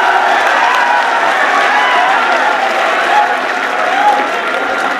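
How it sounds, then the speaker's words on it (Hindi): An audience at a Hindi-Urdu poetry recital breaks into loud, sustained applause with some cheering, a thick even roar of clapping close at hand, with faint voices mixed in. "जोरदार तालियां, जोरदार।"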